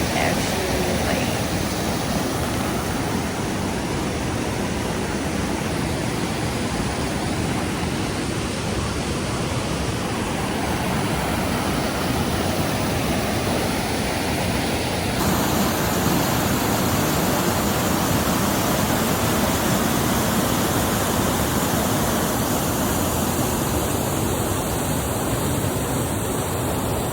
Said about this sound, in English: Kind of a cool experience to see this 18-foot waterfall.